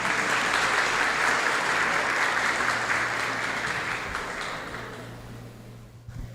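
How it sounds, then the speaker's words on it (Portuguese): An audience applauds at the opening of a data protection (LGPD) awareness event. The clapping is dense and sustained, then tapers off near the end, and a low steady hum runs underneath. "Palmas."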